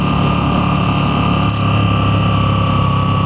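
Stock exhaust of a 2025 Moto Guzzi V7 Sport motorcycle running at road speed, a steady loud drone with a constant low rumble and sustained mid tones, close and continuous, with a brief higher hiss midway.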